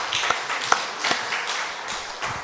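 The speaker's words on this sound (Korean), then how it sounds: "우리 하나님 앞에 영광의 박수 돌리겠습니다" A church congregation claps in scattered, uneven bursts, a few distinct hand claps over a light room murmur, moderately loud with no talk.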